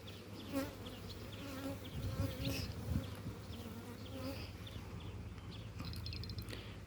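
A dense, steady buzz of many honeybees fills the air near the hive, droning continuously with individual wingbeats rising and fading.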